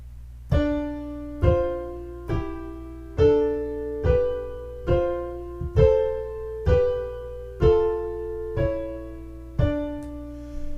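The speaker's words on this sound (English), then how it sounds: "With the canis firmus underneath, it sounds like this." A counterpoint melody played over a lower cantus firmus line, each note struck as a two-voice interval, roughly eleven evenly paced attacks that ring and fade one after another, with no talking.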